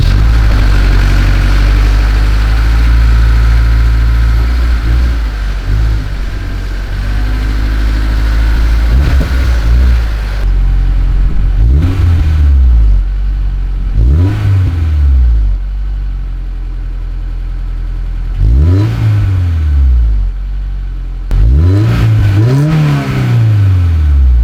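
A Honda Civic Type R FK8 with a newly fitted exhaust pulls out, its engine loud and close, repeatedly revving up and easing off through the gears in rising and falling sweeps.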